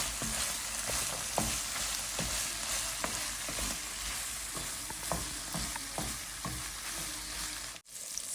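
Onion fritters (piyaji) frying in a pan of hot oil, a steady dense sizzle with repeated soft stirring and clinks, close and continuous, no talking.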